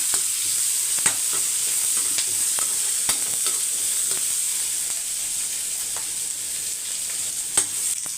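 Small shallots and a bunch of young spinach greens sizzle steadily in a hot pan, a constant close frying hiss with occasional clicks of stirring, no voices.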